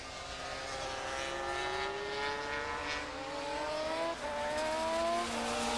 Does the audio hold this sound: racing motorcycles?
yes